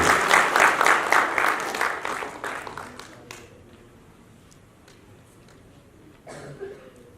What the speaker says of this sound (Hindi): जोरदार तालियों से अशोक शौकोत जी का स्वागत कीजिए।